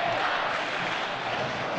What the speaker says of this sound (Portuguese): Pacaembu inteiro agora pedindo o garoto Neymar.